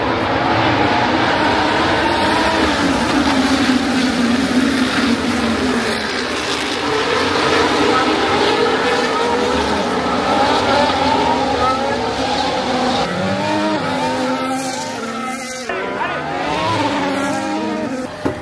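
Formula 1 cars roar away at the start of a sprint race, a loud, sustained blend of rising and falling engine whines heard from the stands, with people talking nearby.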